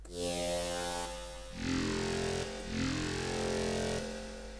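A dry growl bass synth in a Zomboy-style dubstep remake, heard without effects: three swelling, throaty, vowel-like notes that sweep and snarl, loud and alone.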